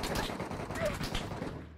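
Rapid gunfire crackles through a tense online shooter match, a dense burst of overlapping shots from nearby with faint talk underneath.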